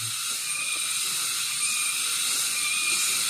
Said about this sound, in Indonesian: Ini jika ingin kekencangannya maksimal menggunakan kunci teman-teman, mengencangkannya menggunakan kunci T8